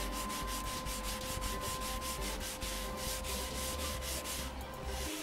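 A plastic Acorn BBC Master 128 computer case is scrubbed outdoors with a scouring pad and domestic cream cleaner, giving fast, even rubbing strokes in a steady rhythm, close up and alone.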